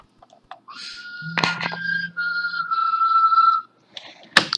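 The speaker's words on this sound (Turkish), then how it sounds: "Telefon" A phone rings in sustained electronic tones, a few clear melodic beeps in a short sequence, close and fairly loud, with small clicks and a brief bump at the end.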